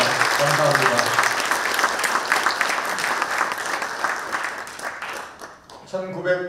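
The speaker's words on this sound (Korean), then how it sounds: "두 분과 단체에게 뜨거운 박수 보내주시기 바랍니다" Warm, sustained applause from the crowd at a Daegu commemoration ceremony for Patriotic Martyrs' Day, with a voice speaking at the start; the clapping thins out and a speaker resumes talking near the end.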